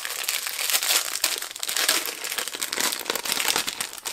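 Plastic wrap crinkling and crackling continuously as a subscription beauty box is opened, close and fairly loud, a dense unbroken rustle lasting a few seconds with no talking.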